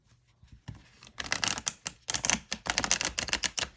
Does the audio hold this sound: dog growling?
no